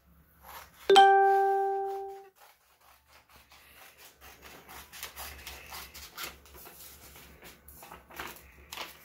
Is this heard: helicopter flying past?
no